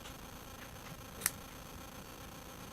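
Scissors trim the legs of a ribbon bow with a single short, crisp snip against a quiet room background.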